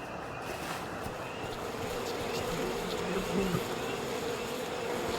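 Insects droning steadily in We Happy Few, a continuous buzzing bed of bees that runs the whole moment at moderate level over faint ambient noise.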